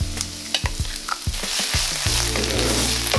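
Onions, garlic and tomato paste fry in a pan with a steady sizzle, broken by close clacks and scrapes of a utensil stirring, no voices.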